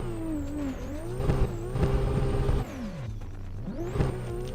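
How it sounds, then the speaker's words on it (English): A drifting car in the Assetto Corsa racing game downshifts, with engine revs rising and dropping through several gear changes and a loud, close engine whine that dips and climbs again. "Downshift."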